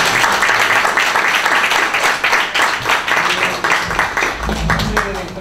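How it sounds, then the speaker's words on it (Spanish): A crowd applauds after a heartfelt personal story, dense clapping that stays loud and busy throughout, with a voice briefly surfacing near the end. "le damos un aplauso"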